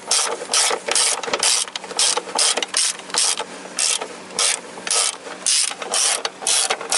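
A ratchet wrench cranks at a 14mm engine bolt on a Toyota Corolla during gearbox replacement work, with repeated bursts of rapid metallic clicking separated by short pauses, close and loud with no talk.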